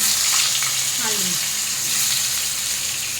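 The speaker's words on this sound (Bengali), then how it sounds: "আলুগুলো ভালো করে ভেজে নিব।" Chunky cut potatoes fry in the same pan after the stingray fish, giving a loud, continuous close-up sizzle, with a brief faint voice-like sound partway through.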